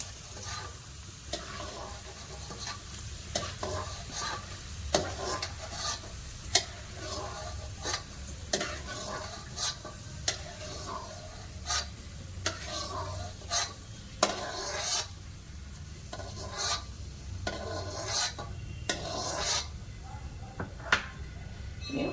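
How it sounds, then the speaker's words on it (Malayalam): Peanuts and roasted gram being roasted in a pan make dry rattling and scraping as they are stirred, with regular sharp knocks of the spoon against the pan over a low sizzle, close and moderately loud throughout. "പൊട്ടുകടല അതും ഇടട്ടെ. അത് നമുക്കൊന്ന് മൂപ്പിച്ചെടുക്കണം."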